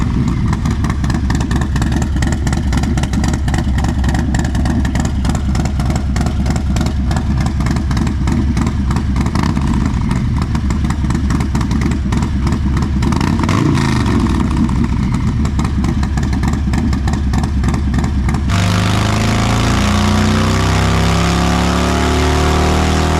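Harley-Davidson Stage 2 motorcycle with a Blockhead 2-into-1 exhaust, roughly 109 horsepower, revving hard and loud with repeated throttle blips, then easing into a lumpy, pulsing idle.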